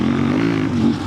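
A KOVE 800X Rally motorcycle engine revs hard and loud, a steady throaty roar with rising harmonic pitch held close throughout the short burst, no talking over it.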